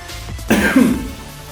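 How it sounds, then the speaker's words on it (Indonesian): A single short throat-clearing cough, close and fairly loud, standing alone against a quiet background. "batuk."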